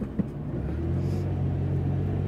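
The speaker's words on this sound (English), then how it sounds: "this traffic's like killing me here" Steady low road rumble heard from inside a moving van in commuter traffic, a continuous engine and tyre drone with a brief knock near the start.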